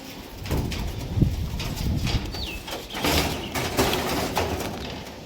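Tippler pigeons at a breeder's home in Nabadwip coo softly in short bursts amid background rustling and faint scraping, moderately close.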